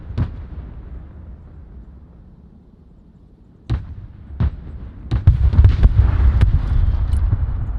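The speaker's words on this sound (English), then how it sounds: "Order ready. Send coordinates. OK 打一轮。 Copy. Call for fire received." Artillery fire mission in the video game Broken Arrow: a low rumbling bed broken by a few sharp blasts, then a cluster of loud booming impacts and crackling bursts building toward the end, with no voices.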